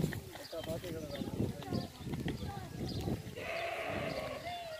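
A farm goat raised for sale lets out wavering bleats, the clearest one toward the end, while someone speaks steadily over the background barnyard noise.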